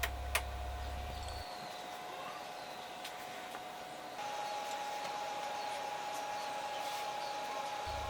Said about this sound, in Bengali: ফ্যান থেকে অনেক দ্রুত বাতাস বের হচ্ছে।